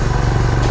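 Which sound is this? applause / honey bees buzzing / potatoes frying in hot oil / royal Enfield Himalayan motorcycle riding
royal Enfield Himalayan motorcycle riding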